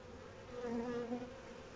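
Honeybees buzz around a newly introduced queen at the hive, a soft, steady, close-up drone that swells slightly in the middle of the short stretch, with no voices.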